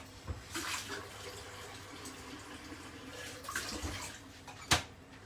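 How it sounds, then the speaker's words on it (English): Water is poured into a cooking pan, giving short splashing bursts with quieter running water between them and a sharp clack near the end, all fairly faint and without speech. "I'm going to add some water"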